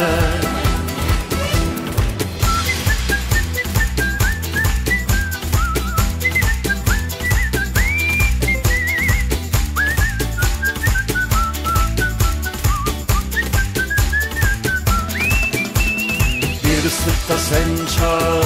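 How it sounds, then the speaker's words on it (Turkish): Melodic whistling carries the tune of a Turkish political campaign song for a 2024 CHP candidate, looping phrases continuously over a full, loud musical backing with steady beat throughout. "Bir ıslıkta sen çal, bir ıslıkta sen."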